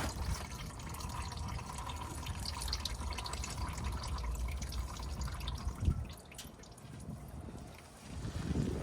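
Oil seeps and drips from a loosened oil filter under a 2016 Ford Explorer, a steady faint trickle and dripping close by with a brief knock partway through.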